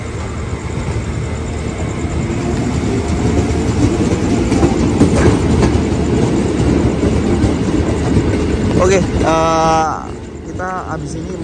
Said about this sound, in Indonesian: KRL-nya berangkat.